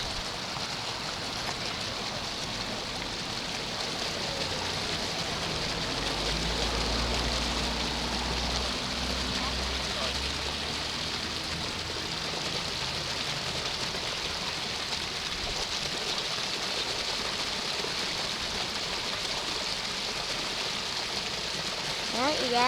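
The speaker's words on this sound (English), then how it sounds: "well, that's the waterfall." Waterfall near a lake dock, heard as a steady broadband rush of falling water that stays even throughout, with faint low rumble underneath and occasional outdoor sounds.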